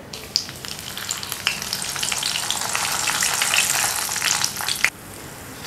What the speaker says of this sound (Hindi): इसी गरम तेल में हमने मूंगफली जो है वो फ्राई करनी है।